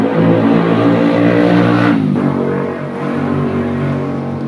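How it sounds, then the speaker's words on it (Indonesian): Loud motorbike ridden recklessly past a roadside spot lined with motorcycle workshops, its engine roaring close at first, then the pitch drops around the midpoint as it passes and fades into a lower rumble. "motor ugal-ugalan sering lewat lalu lalang di sini"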